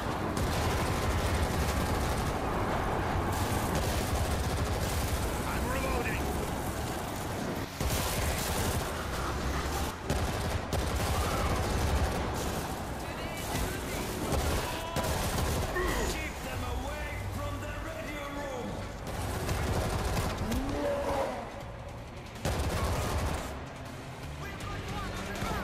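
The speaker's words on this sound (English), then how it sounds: "Watch where you're shooting." Sustained gunfire in the zombie shooter World War Z, with dense, continuous bursts of automatic weapons and scattered heavy impacts throughout, loud and close, with occasional voices in the mix.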